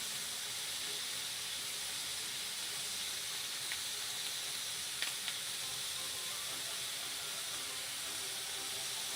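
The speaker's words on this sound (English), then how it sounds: "I think it's a bit too wet to actually get a good sear on it though." Damp meat searing in a hot pan while cooking Brazilian food, a steady loud sizzle and hiss that holds throughout, with a couple of faint clicks, no voices.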